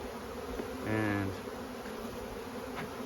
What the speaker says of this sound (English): So get all these bees out of there.